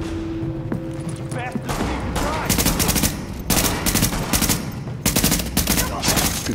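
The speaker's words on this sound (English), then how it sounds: "The escort party's taking heavy fire from the roof." Rapid automatic gunfire from a shooter video game set in a field hospital and subway, heavy bursts of machine-gun fire and repeated shots filling the scene, with a voice talking over parts of it.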